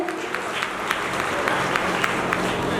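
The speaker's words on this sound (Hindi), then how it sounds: "जोरदार तालियां बजाइए" Audience applause at a district convention and award ceremony in Sawai Madhopur, a steady sustained clapping from a crowd that fills the whole stretch with a few sharper claps standing out.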